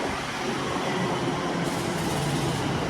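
A London North Western Railway passenger train on the Wembley to Crewe service rumbles past with a steady, broadband roar, its noise holding constant and brightening slightly partway through as it passes close by.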